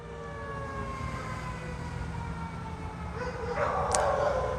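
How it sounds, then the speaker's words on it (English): Wailing fire truck sirens drift in the distance over a steady background, with dogs barking and howling along. "Fire trucks and dogs."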